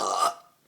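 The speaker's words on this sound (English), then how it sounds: "just let a burp just rip out of my mouth. Really loud." A woman lets out one loud, drawn-out burp lasting about a third of a second, close and clear, before fading into near silence with a faint trailing sound.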